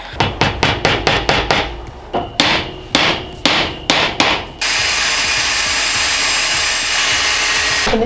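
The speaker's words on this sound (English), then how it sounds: "So now I'm gonna nail these suckers on." Hammer blows drive nails into wood in quick, loud bursts of sharp strikes, about a dozen in all. A steady, loud broadband whir from a power tool then takes over.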